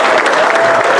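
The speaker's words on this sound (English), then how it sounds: "Let's give him a round of applause." Audience applause at a school athletic Wall of Fame ceremony, a dense, steady burst of clapping filling the room for about a second.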